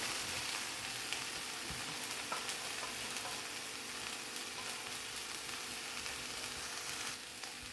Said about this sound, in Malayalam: അതിലേക്ക് നമുക്ക് അരിഞ്ഞു വെച്ചിരിക്കുന്ന വെണ്ടയ്ക്ക ഇട്ട് കൊടുക്കാം